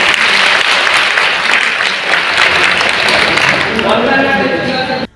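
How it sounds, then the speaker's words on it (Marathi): Loud, sustained applause from a women's audience at an organisation meeting in Pune, a dense wash of clapping that holds steady for about five seconds before cutting off abruptly. "आपल्या संपूर्ण महिलांच्या वतीने एकदा जोरदार टाळ्या"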